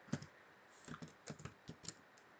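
Light typing on a computer keyboard, a few quiet, close keystrokes in irregular short runs.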